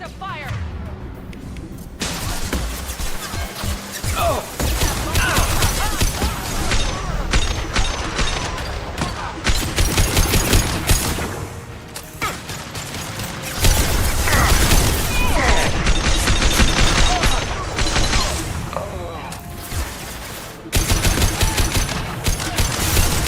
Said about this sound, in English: Protocol 4, deploy suppressive fire.